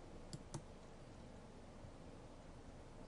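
A single mouse click on PowerPoint 2007's Insert button, with two faint, sharp clicks close together near the start over a steady background hiss.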